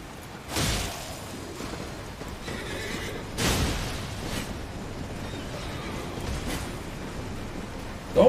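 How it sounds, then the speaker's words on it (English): A horse neighs in the Elden Ring video game on PS5, two loud whinnying bursts near the start and middle over a steady hum of in-game ambience. "Let me take care of the horse first."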